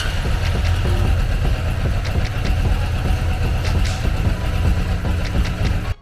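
A 1993 Suzuki GSX 600F barn-find motorcycle engine runs steadily at idle at close range, with a continuous low rumble and some faint rattles. No one speaks.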